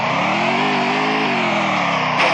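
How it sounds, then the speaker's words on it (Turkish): A steady motorcycle engine drone in the video game Free Fire revs continuously and loudly, its pitch rising and falling slightly, with no talking. "Ya bırak şu motoru şu an çok ses çıkıyor."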